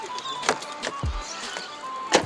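The door of a 2012 Honda Civic FB 1.8S shuts with one short, solid, low thud, surrounded by faint clicks and mechanical ticks from the car.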